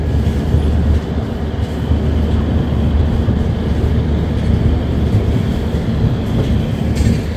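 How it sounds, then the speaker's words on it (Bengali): Kanchankanya Express running on the line after leaving Dankuni junction, a steady loud rumble of wheels and carriage with continuous low roar and faint rattling throughout. "আমাদের ট্রেন কিন্তু ডানকুনি জংশন ছাড়লো"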